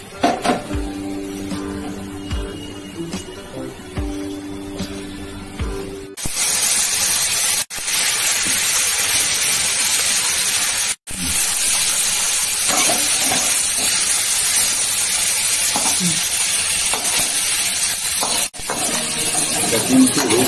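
Catla fish sizzles in hot oil in a wok, a loud continuous hissing spatter that starts abruptly after a quieter opening and runs on with a couple of brief breaks; no speech.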